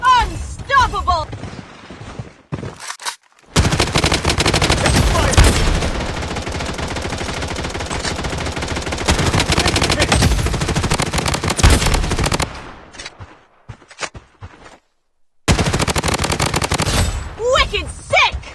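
Sustained automatic gunfire from the BloodStrike shooter game, loud and continuous for long stretches with brief pauses, layered with game announcer callouts and effects.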